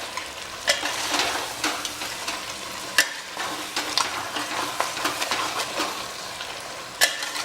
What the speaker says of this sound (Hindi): रोज़ वाटर, इसे अच्छी तरह से मिला लेते हैं।